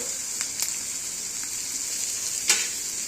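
Capsicum curry sizzles steadily in a pan with a continuous frying hiss, broken by occasional scraping clicks as it is stirred.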